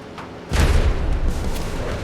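Gunfire in the shooter game Blood Strike: a sudden loud blast after half a second opens into a dense, continuing rumble of shots and booms.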